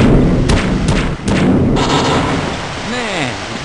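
Gunshots ring out in the video game Half-Life: Uplink, three sharp loud cracks in quick succession followed by a rumbling burst, with a voice speaking afterward.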